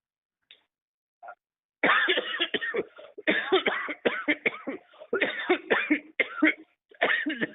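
A person coughing repeatedly in harsh, closely spaced fits, after a couple of faint short sounds at the start.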